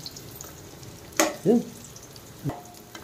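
Raisins frying in a pan for wheat rava prasadam, with quiet background sizzle broken by a few brief stirring scrapes and clinks.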